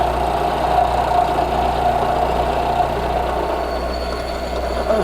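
A milling machine spins at about 800 RPM while taking a light cut, giving a steady, even mechanical hum with a faint grinding tone, close and continuous with no talk.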